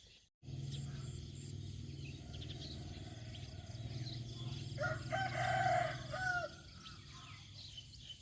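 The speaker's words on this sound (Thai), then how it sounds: "เช้าๆมาก็ได้ยินเสียงไก่ขันเนาะ" A rooster crows once in the distance in the countryside on a morning after rain, rising over a steady low hum.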